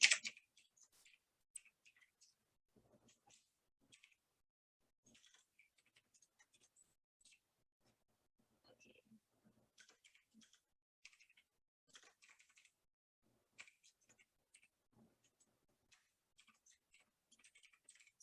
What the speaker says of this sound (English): Sorry if I'm typing a little bit slow.